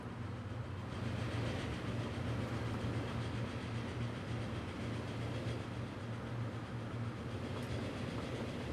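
A four-car train in Transport Fever runs steadily in a continuous rumbling roll with a low engine hum and faint rhythmic clatter, unbroken throughout.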